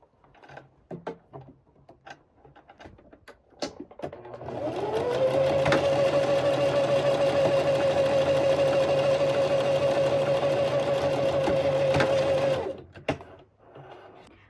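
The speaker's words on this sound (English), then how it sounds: "continue sewing back to where I started along the collar, along the shoulder line" Sewing machine stitching along the collar and shoulder line of a top, a steady whirring run of about seven seconds between quieter handling clicks and rustles before and after.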